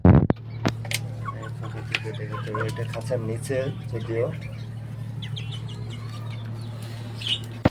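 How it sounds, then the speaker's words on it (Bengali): Large tiger-patterned hens kept in a cage give soft, broken clucks from nearby, with a steady low hum underneath and a person talking over them. "বড় বড় 3টা মুরগি আছে।"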